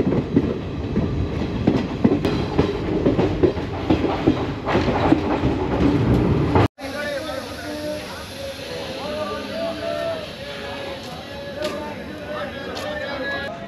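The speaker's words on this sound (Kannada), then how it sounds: "ಮೈಸೂರು ತಾಲಗುಪ್ಪ ಇಂಟರ್ಸಿಟಿ ಎಕ್ಸ್ಪ್ರೆಸ್ ಬಂದಿದೆ ಇವಾಗ ಅರಸೀಕೆರೆ ಜಂಕ್ಷನ್ಗೆ." The Mysuru–Talaguppa Intercity Express pulls into Arsikere Junction with a loud, steady rumble and wheel clatter. It then cuts abruptly to a quieter station hum, and voices are heard throughout.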